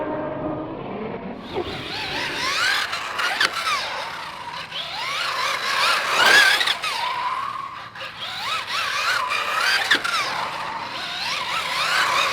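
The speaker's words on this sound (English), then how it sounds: "The tires screeching? They screech a little bit." Kyosho Fazer MK2 1971 Datsun 240Z RC rally car tires screeching on pavement, a thin, wavering squeal that rises and falls repeatedly over a steady whirring motor, close by and fairly loud.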